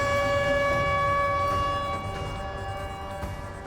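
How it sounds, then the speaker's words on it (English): Outdoor tornado warning sirens wail across Joplin, a Midwest city, holding long steady tones that blend into a loud, sustained drone and ease slightly lower partway through, with no voices. "28 outdoor sirens begin to wail in Joplin."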